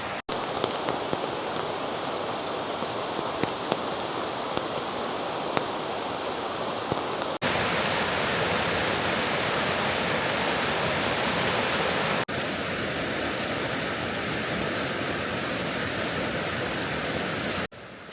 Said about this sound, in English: This is the Nisqually River, and also some that are a little higher up like this.